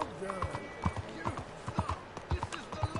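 Horse hooves clip-clop in the Red Dead Redemption 2 video game, a steady, fairly close run of rhythmic hoof beats that sits under a person talking.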